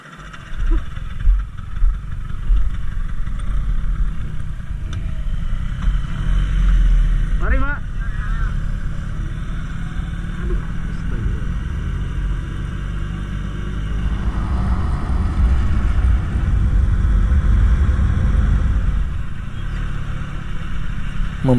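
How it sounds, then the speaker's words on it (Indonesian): Motorcycle engine on a long-distance road trip in Sulawesi, Indonesia, running with a steady low rumble throughout after a single start, loud and close, with a brief mechanical whine partway through. "Satu kali starter motor langsung hidup dan kami lanjutkan kembali perjalanan"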